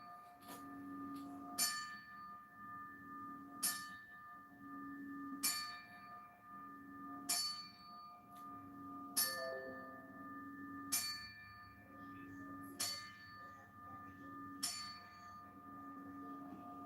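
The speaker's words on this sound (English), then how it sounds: "they're giving a 10 bell for my man Hagler" A boxing ring bell tolls a ten-bell salute in memory of boxer Marvin Hagler at a live boxing event, its clear strikes evenly spaced about two seconds apart in a steady, unhurried series with no talk.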